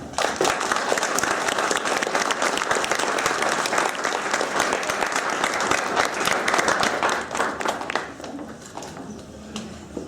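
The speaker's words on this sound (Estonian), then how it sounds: "teeme ühe aplausi teie õpetajatele" Applause for the teachers at a kindergarten group's graduation party, a crowd of parents and children clapping loudly and steadily before the claps thin out and fade near the end.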